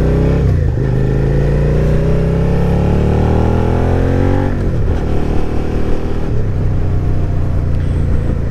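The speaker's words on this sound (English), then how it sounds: "hopefully the bike sounds a little bit better" A 2022 Suzuki SV650 ABS motorcycle engine drones loudly while riding in traffic, its pitch rising through gears with two shift dips, mixed with steady wind rumble from close up.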